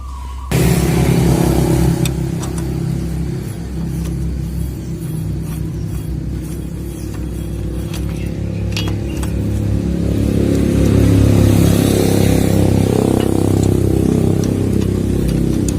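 A hot Yamaha Vixion motorcycle engine runs close by at a steady idle, with a constant loud mechanical drone and a thin whining squeal above it that swells slightly toward the end.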